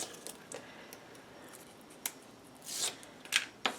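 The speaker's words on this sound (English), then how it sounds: "We're going to remove our score tape" Score tape being peeled off a paper panel while assembling an 8x8 mini album, heard as a few soft tearing and ripping bursts near the end, with light paper rustles and taps before them, close and fairly quiet with no talk.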